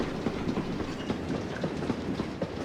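A heavy freight train with a J94 engine and many wagons rolls along in Train Simulator, giving a steady, loud clickety-clack of wheels over rail joints with a continuous rumbling roar.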